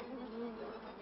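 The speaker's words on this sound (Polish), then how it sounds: "Czelisz doprowadził rój pszczeli aż do samych Kartuz" A dense, steady buzz of many bees swarming close by, droning without pause.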